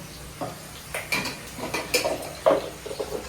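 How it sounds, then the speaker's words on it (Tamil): A metal cooking pot is washed in a home kitchen, with scattered clanks, scrapes and knocks of metal arriving in irregular bursts, close and moderately loud, with no voices. "இப்போ இந்த பாத்திரத்தை வந்து இந்த கேப்பில் நான் கழுவிடுறேன்"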